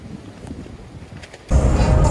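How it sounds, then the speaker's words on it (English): Gusty wind roars and buffets against a tent's fabric, with a sudden strong gust that grows much louder partway through. "It's super windy. The tent is holding on for life."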